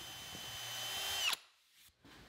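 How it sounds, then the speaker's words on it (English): A power drill bores a hole through plywood in a woodworking shop, a steady rising whine that cuts off sharply as the bit breaks through, followed by a brief quieter motor spin-down, close and alone. "This will support the workpiece while I'm drilling the holes."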